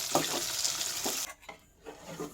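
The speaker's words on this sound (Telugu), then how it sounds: "పండు మిర్చి వేసుకోవాలి కొంచెం జీలకర్ర వేసుకోవాలి కొన్ని కొత్తిమీరలు వేసుకోవాలి ఇవి ఇప్పుడు కొంచెం వేగనివ్వాలి" Green chilies, cumin and coriander sizzling in a pan, with soft stirring scrapes and a brief dip before the frying hiss resumes, close and fairly quiet.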